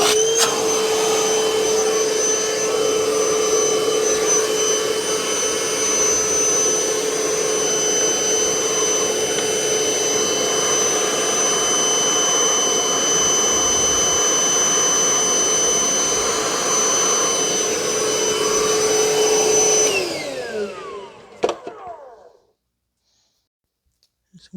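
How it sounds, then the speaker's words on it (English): Compressed-air blower hissing steadily and loudly while clearing dirt from a 2005 Toyota Corolla 1.8 cylinder head, a continuous whooshing rush with a faint whine that holds for about twenty seconds, then cuts off and trails into a few small clicks and knocks. "You can also use an air blower if you want."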